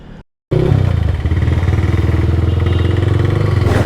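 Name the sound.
motorcycle engine and exhaust while riding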